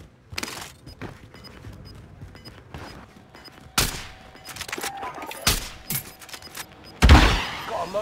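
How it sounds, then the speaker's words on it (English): Gunfire in an online shooter video game, with scattered sharp shots and several louder, closer bursts and impacts spaced across the clip over quiet background game sounds, with no talk. "Where are they shooting from?"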